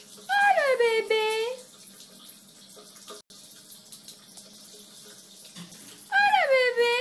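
Shower water runs steadily while a baby is bathed and shampooed, with a child's high wailing vocal cries rising over the spray at the start and again at the end.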